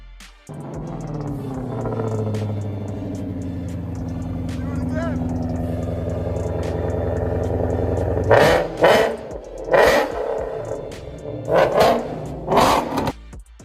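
Ford Mustang with the Predator V8, a steady engine drone that builds, then several sharp, loud revs blip in quick succession toward the end, with narration over it.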